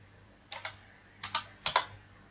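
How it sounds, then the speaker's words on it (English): Several short bursts of computer keyboard typing in Notepad, three clusters of quick close key taps separated by brief pauses in a quiet room. "In this I am going to type the program."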